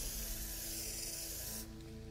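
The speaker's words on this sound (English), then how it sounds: "I'm gonna spray some kicker," A spray can of kicker glue activator hisses steadily in a short, close burst on a radio-controlled XRAY X12 car's front suspension arm, then cuts off, leaving faint mechanical rattling.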